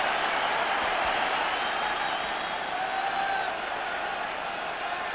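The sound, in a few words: rugby match crowd cheering and applauding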